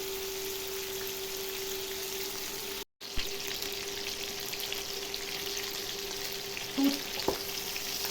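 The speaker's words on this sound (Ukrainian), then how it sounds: "Смажимо." Meat and pork fat sizzle and crackle steadily in a hot pan, a constant close frying hiss with a brief cut partway through and a small clink near the end.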